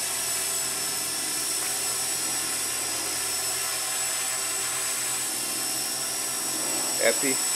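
A Walkera QR X800 drone flies overhead, its steady high-pitched rotor whine and hum holding constant throughout, with a brief voice near the end.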